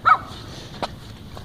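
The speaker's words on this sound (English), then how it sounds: "That fucking dog!" A dog gives a single sharp bark at the start, close by, during street flooding, followed by quieter background noise and a few faint knocks.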